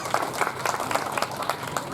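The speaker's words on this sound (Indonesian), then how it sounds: "tepuk tangan luar biasa ya" A mosque congregation at a Ramadan welcoming gathering at Masjid Al Ghaniy claps together, a brief burst of fairly rhythmic group applause filling the room.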